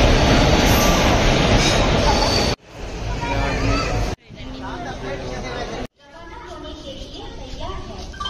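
Rail noise at Gudur Junction, where a Vijayawada-based Kavach locomotive hauls an intercity express: a loud rumbling roar, then quieter stretches of carriage hum and crowd babble, broken by abrupt cuts, with voices chattering throughout.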